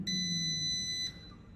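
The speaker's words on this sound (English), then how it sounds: "And we've beeped." An air fryer timer beeps with a high, steady tone for about a second, then stops.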